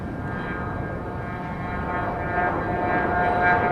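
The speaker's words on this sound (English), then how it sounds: "Cessna Citation Latitude." A Cessna Citation Latitude business jet rumbles at Dallas Love Field, a steady engine roar with a high whine that grows slightly louder toward the end.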